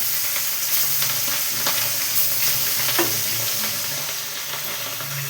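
Katla fish pieces fry in hot oil in a pan, giving a steady loud sizzle with crackles and pops throughout, no talk.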